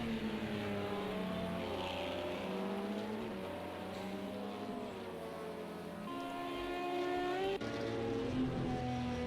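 Racing car engines in a racing video game, including Audi and Lexus/Toyota cars at Spa, drone and whine, their pitch rising as they shift through gears, with several engines overlapping at steady volume.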